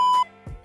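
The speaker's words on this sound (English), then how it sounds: "You go back here to stock clip and you add the beep." A stock beep effect added in a phone video editor as part of a bars-and-tone segment: a steady pure electronic tone held for a moment, then a low rumbling gap, then a second brief beep at the end, loud and clean with no talk.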